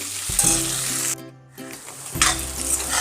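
A fish curry with eggplant and cumin sizzles and fries in a pan, loud and close, with a brief quieter pause in the middle before the frying and stirring surge back.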